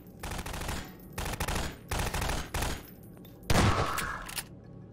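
Bursts of automatic gunfire in the video game Half-Life 2, four or five loud rapid volleys separated by short pauses, up close with no talking.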